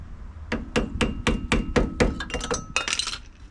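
A small hammer strikes brake parts on a junkyard 1989 Pontiac Firebird, about a dozen sharp metallic taps in a quick, fairly even rhythm, close and bright, with a few faster clinking hits near the end.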